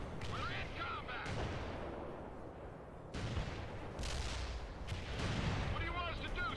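Artillery fire in the real-time strategy game World in Conflict during mountain combat, a dense rumbling barrage of booming impacts and blasts that goes on throughout, loud and continuous, with voices and radio chatter talking over it.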